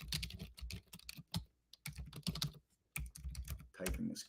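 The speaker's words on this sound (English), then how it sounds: "Typing this key." Rapid, irregular key clicks from a computer keyboard during a live trading session, close and fairly crisp, in short bursts with brief pauses.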